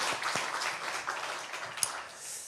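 A church congregation at a Sunday Parents' Day worship service applauds in praise, a soft, diffuse patter of many hands that stays fairly steady and fades slightly toward the end, with one sharper clap standing out.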